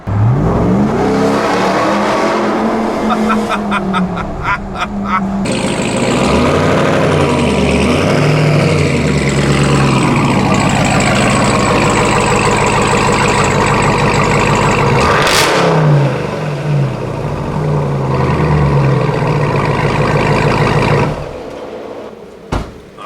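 A RAM TRX pickup truck's aftermarket exhaust drones loudly and steadily while driving, rising and falling through gear changes, then dropping off near the end.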